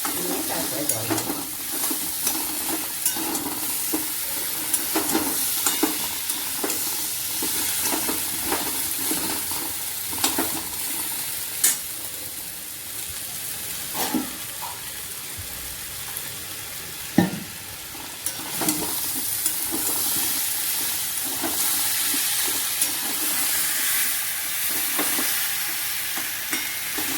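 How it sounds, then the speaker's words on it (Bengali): Pumpkin curry, seasoned with a little sugar, sautés in oil in a pan with a steady sizzle, punctuated by frequent scrapes and clicks of a spoon stirring against the metal, close and continuous without talk. "কষিয়ে নিচ্ছি, কষিয়ে নিয়ে জল দেবো। তেলটা হয়ে গেছে, কুমড়োটা এখন ভেজে নিয়েছি।"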